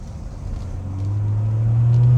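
A BMW 540i engine revs steadily higher, its exhaust note rising into a deep, loud drone with no talking.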